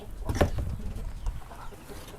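Native Thai chickens cluck on a mixed farm that also raises fish, a burst of layered clucking and calls up close early on, then softer scattered bird sounds and farmyard noise trailing off.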